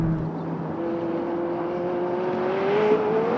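A 2019 McLaren 600LT Spider's engine pulling hard on a race track, a steady rising whine that climbs in pitch as the car accelerates under a wash of wind and road roar.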